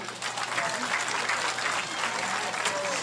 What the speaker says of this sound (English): please give a round of applause for our 2021 Bronco football seniors